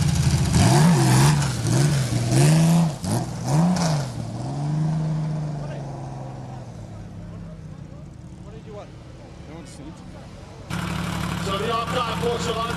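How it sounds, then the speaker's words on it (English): A Porsche flat-six engine in a classic car launches off the start at the Simola hillclimb, loud rising revs through several gear changes, then fading into the distance under a commentator's voice, before another car's engine rumbles in near. "Porsche's finest, Flat 6, do the talking"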